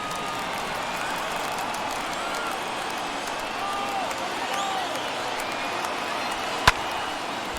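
Crowd of over 39,000 in a baseball stadium during an MLB The Show 21 Futures Game at Truist Park, a broad, steady roar of cheering with one sharp crack near the end.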